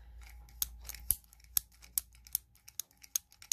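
A lollipop grabber toy from a candy store snaps open and shut in a quick run of crisp, close clicks at an uneven rhythm, quiet and with no speech.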